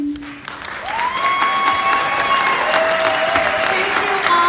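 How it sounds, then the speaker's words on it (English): Loud steady applause fills a town hall for a gun-safety rally, with crowd noise mixed in and a few whistles or tonal sounds rising above the clapping. "could you just stand up so that we could applaud you?"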